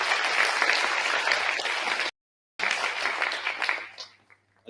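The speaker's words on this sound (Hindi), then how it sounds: "तो जयदीप के अच्छे काम के लिए एक बार जोर से तालियां बजा दें." Audience applause breaks out at a live World Environment Day and Menstrual Hygiene Day celebration, dense and sustained, cutting off abruptly, then resuming and fading away.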